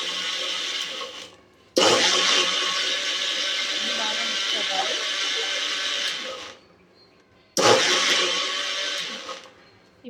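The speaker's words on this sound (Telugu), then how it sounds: "ఎగ్, నెయ్యి, షుగర్ అనేది బ్లెండర్ చేసుకుందామండి" Blender whirring through egg, ghee and sugar for a banana curd cake, running loud and steady in two bursts with a short pause between, cutting off near the end.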